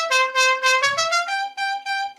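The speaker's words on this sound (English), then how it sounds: "No, it was like a train horn." A loud horn like an air or train horn blares in a series of short repeated blasts, each pitch sliding slightly downward, close and clear with no talking.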